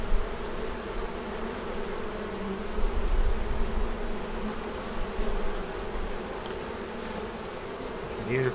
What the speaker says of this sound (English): It's got a lot of bees in it.